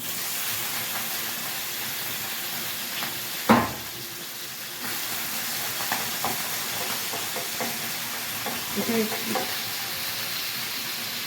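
Fish fries again in oil, stirred in the pan, with a constant soft sizzle broken by a sharp clack from the utensil and several lighter scraping knocks, close and without talk.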